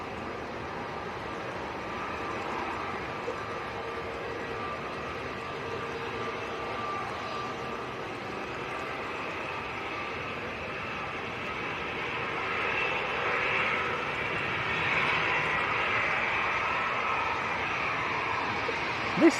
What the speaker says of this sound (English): This is Aer Lingus to Dublin, Airbus A320.